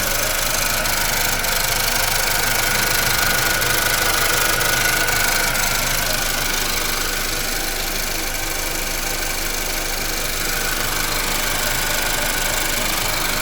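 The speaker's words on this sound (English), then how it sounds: "You can see the turbo is running." A Nissan Juke F15 with the 1.2L HR12DDT turbo petrol engine runs at a steady idle after a turbo replacement, a close, continuous mechanical hum with a faint whine and light ticking throughout, no voices.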